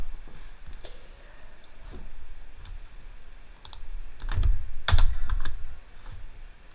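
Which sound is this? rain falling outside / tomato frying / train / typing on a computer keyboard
typing on a computer keyboard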